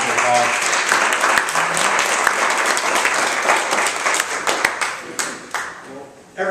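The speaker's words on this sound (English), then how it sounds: "We'll give another round of applause." Lively audience applause for a group of young women, loud and close with crisp individual claps over a dense crowd, some voices mixed in, thinning out near the end.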